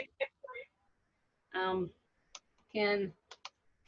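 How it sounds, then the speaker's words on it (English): Light, scattered keyboard taps click close by between short spoken words, with a couple of quick double taps near the end. "I'm typing notes to you guys"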